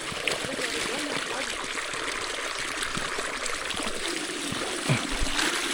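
Water trickles and splashes steadily as feet are rinsed, a continuous close stream with a brief louder splash near the end, in an outdoor farm setting in a village.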